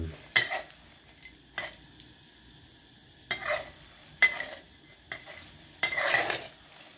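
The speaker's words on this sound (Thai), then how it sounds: "ทำการคั่วพริกก่อนเลยนะครับ ทอดพริกไปจน ได้สีที่เราต้องการ" Dried chillies fry in a little oil in a wok while a spatula stirs them, making intermittent scraping and clinking bursts over a faint sizzle, with quiet gaps between strokes.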